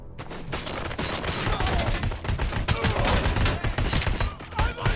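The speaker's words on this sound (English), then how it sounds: "Now this is a new assault rifle." A futuristic assault rifle in RoboCop: Rogue City fires dense, rapid bursts of loud gunshots, sustained almost throughout with brief pauses and close, punchy reports.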